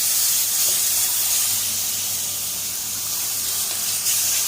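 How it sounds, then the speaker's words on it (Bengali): Water splashed into a hot pan of frying spices while cooking duck, producing a loud, continuous steamy hiss and sizzle that stays close and steady throughout, with no voices. "হালকা একটু ব্রাউনিশ কালার হওয়ার পরে হালকা করে একটু পানি দিয়ে দেওয়া"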